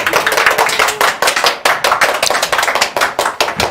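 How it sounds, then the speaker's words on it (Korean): Applause from a lecture audience welcoming a Korean history instructor to the stage, a dense run of bright hand claps that swells and fades in quick waves, close and loud with no talking. "박수로 모시겠습니다."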